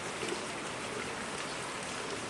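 Heavy downpour falling steadily, a dense, continuous hiss with no pauses or voices, filling tubs and basins outdoors.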